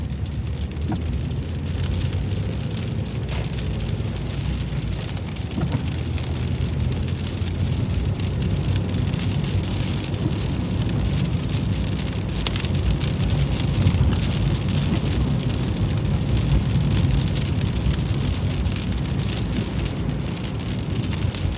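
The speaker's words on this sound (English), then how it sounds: "they did say it was going to be constant rain" Heavy, steady rain pours continuously, a dense even hiss of drops on surfaces with no letup and no voices.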